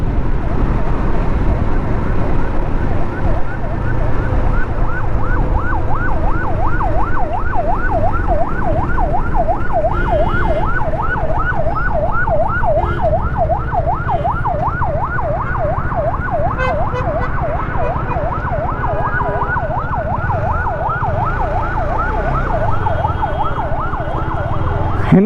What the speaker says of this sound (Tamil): என்ன ஒரே சைரன் சவுண்டாக கேட்குது, பயங்கரமாக இருக்கேப்பா.